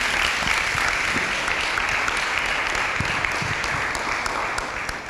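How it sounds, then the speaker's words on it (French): An audience at a French-language youth forum gives sustained applause for the director general, a dense, steady wash of many hands clapping that fades slightly toward the end. "On peut applaudir pour Madame le directeur général, s'il vous plaît."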